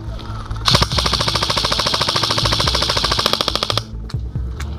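Airsoft automatic fire at an outdoor milsim event, laying suppressing fire on a rooftop: one loud, close, rapid burst of evenly spaced shots lasting about three seconds, followed by a few single pops.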